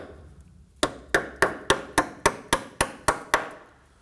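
About ten sharp, evenly spaced taps ring out close and loud as a brake hose clip is knocked into place on a 2015-2024 Nissan Murano, with nothing else heard between them.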